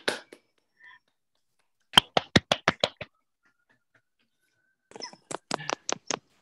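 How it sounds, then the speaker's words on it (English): A handful of unmuted video call participants clap in two short, sparse bursts, their separate hand claps fairly faint against silence. "give Nica a big round of applause"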